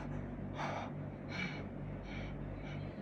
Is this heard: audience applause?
no